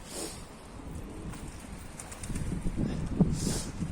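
Pigeon wings flap in a few soft, fluttering bursts at close range near a feeder, over a low background rumble, with faint cooing near the end.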